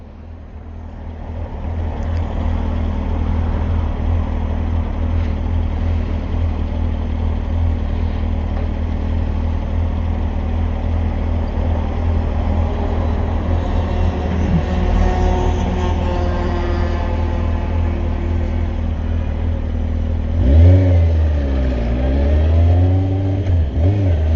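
A motorcycle engine turns over at low revs while riding through Paris, a steady, close, loud rumbling drone that holds evenly, then swells briefly with a short rev change near the end.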